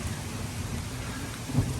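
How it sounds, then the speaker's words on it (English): Heavy rain pours down steadily during a storm, a dense close hiss, with a low rumble of thunder rolling beneath it and swelling briefly near the end. "Dare say you can hear the thunder as well"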